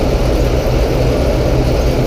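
An Oliver Model 18 engine runs at a steady operating speed with a loud, continuous low rumble that stays even throughout, with no voices over it.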